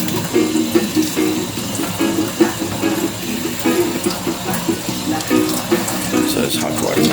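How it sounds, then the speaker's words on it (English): Hot tap water running into a sink over saltfish being rinsed, a steady close splashing flow that continues throughout with some light handling sounds. "I'm washing off the fish, the saltfish, with some warm water."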